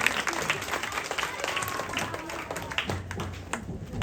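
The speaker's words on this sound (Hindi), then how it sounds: "तारिक भाई के लिए ताली हो जाएगी फिर से" An audience at an annual function applauds for Tariq bhai. The clapping is dense and steady across the whole stretch, a crowd close by, with some chatter mixed in.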